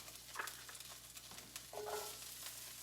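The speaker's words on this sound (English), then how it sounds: "Sizzle, sizzle." Onions sizzle in a frying pan while chicken piccata is cooked, a soft steady frying hiss with light stirring scrapes, fairly quiet and without talk.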